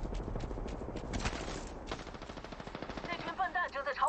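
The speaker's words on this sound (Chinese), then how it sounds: "那群笨蛋正在朝我开枪。" Automatic gunfire in the Apex Legends shooter game rattles out in rapid, close bursts of shots that overlap and keep coming without pause.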